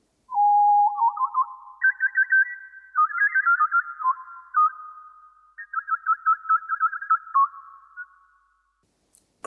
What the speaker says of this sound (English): Bird Whistler.